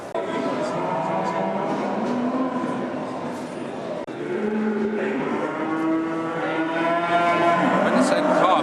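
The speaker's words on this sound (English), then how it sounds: "we've come along to Hexham livestock market, where they sell cows and sheep and that kind of thing." Cattle low repeatedly at Hexham livestock market, loud overlapping moos from several cows close by, with a busy crowd murmur underneath and people talking.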